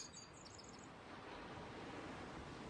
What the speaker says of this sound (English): sound of waves.